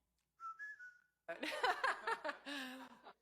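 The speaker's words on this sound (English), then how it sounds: "Is there a whistling? People talk about them whistling." A short rising whistled note, then after a pause a burst of laughter-like voices with another whistled tone near the end.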